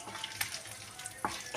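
Dried red chillies fry in a pan for a Telugu ridge gourd (beerakaya) curry, giving a soft, steady sizzle with a couple of brief crackling pops, close by and with no talk.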